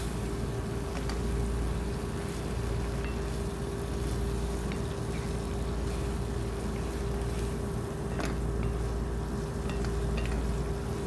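Shrimps and broccoli stir-fried in a pan, a steady dense sizzle that runs unbroken throughout, loud and close, with no talking.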